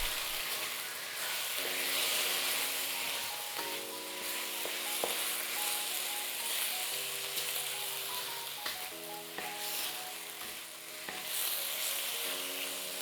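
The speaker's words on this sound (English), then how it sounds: "Now drop in beansprouts and bok choy. Stir fry for 2 more minutes." Steady, loud sizzling from chicken, bean sprouts and bok choy being stir-fried in a wok for chop suey, with scraping stirs under continuous background music.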